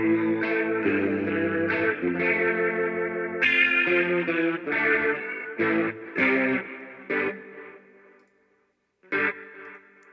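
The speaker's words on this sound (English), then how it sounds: "I usually don't use reverb on guitar, but it makes it sound nice for the stream." Electric guitar plays a series of chords and notes drenched in reverb and chorus-like effects, ringing out between phrases with a brief silent pause near the end.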